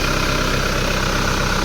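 A 2003 Isuzu Panther diesel pickup engine idles steadily, a loud, close, continuous low rumble with an even rhythmic chug and no voices.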